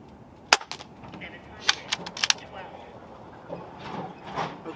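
Gamo Arrow .22 air rifle firing at a range, a sharp close crack followed by a few smaller clicks and thuds, with faint background noise and movement.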